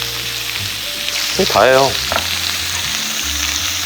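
Pork jowl sizzling and frying in a hot pan with garlic, a steady crackling hiss throughout while someone speaks briefly over it.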